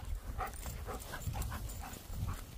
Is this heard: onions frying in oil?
no